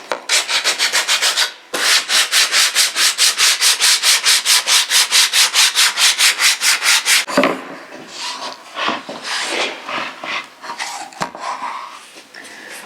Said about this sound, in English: it's a good idea to bring it over so it's supported as you sand